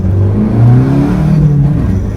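A highly modified VW Beetle revs hard through first gear, its loud close engine note rising in pitch over about two seconds, with no talking.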